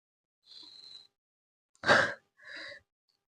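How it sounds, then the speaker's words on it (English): A person yawns softly and close by: a long, airy inhale, a sharper breathy burst, then a shorter trailing exhale with a short pause between each, in a quiet room. "I'm yawning right now"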